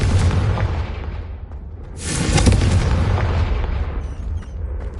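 Confringo blast spell from Hogwarts Legacy: a heavy, booming explosion with deep rumble. A second sharp burst hits around two seconds in, and both decay into a long rolling tail.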